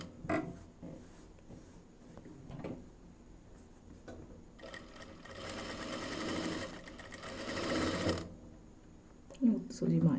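A sewing machine stitches a garment neck design in bursts of fast, rhythmic mechanical whirring that speeds up and stops, with a person talking between and over the runs.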